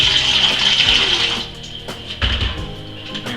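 Water pours steadily from a sterilized kettle while ginger beer is being made, a continuous splashing stream close by that softens toward the end, with no talking.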